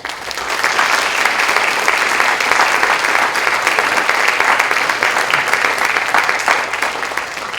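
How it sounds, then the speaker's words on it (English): Steady, loud applause fills a high school auditorium after a city mayoral candidate debate, continuous clapping from a large audience with no talk over it. "join me in a round of applause for the candidates"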